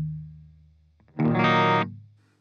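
An EVH 5150III LBX amplifier on its clean channel with the gain at about halfway rings out with a single strummed guitar chord, fairly loud and close, following a fading low note, with no voices.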